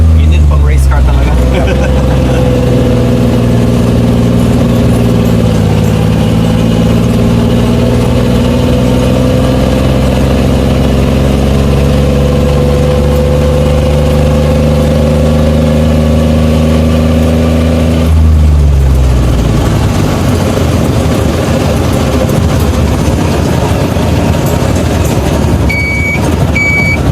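Fake Campagna T-Rex three-wheeler replica engine running steadily near the microphone, a low droning hum with shifting pitch for most of the clip before cutting to rougher mixed noise and a brief faint beep.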